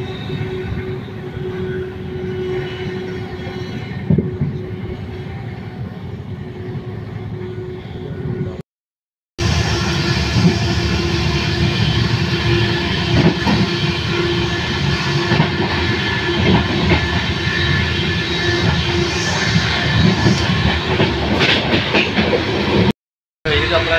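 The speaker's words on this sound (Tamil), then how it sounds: "நம்ம சேரன் வந்து ஒரு எக்ஸ்பிரஸ் ஓவர் நைட் ட்ரெயினாக ரன் ஆகிட்டு இருக்கு" Cheran Express, an overnight sleeper train, rumbles steadily along the rails with a continuous broadband roar, faint rhythmic clatter and occasional knocks, briefly cut by two short gaps of silence.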